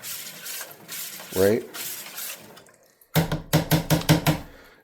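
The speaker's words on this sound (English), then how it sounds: "We're going to give everything a good swishy swirl stir," A slotted metal spoon swirls and stirs hydroponic nutrient solution in a reservoir, giving a run of sharp, rhythmic clinks and sloshes near the end. Someone talks briefly before the stirring.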